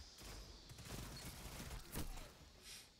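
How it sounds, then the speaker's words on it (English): A rapid fusillade of weapon fire from the video game Destiny 2, with dense crackling shots and a sharper burst near the end, fairly loud with no speech. "Well, I shot that one and then his friend shot me."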